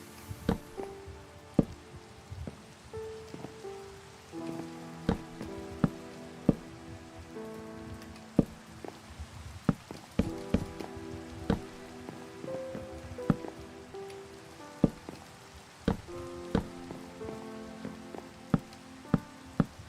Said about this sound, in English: Is it just me, or is it just like constantly raining in every world I play on?